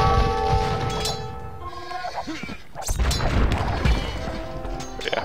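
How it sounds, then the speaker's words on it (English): Siege rams and trebuchets pound a castle in Age of Empires HD, a run of sharp crashing impacts and thuds over game clatter and faint chatter. "But yeah, siege rams and trebs, castle's gonna die."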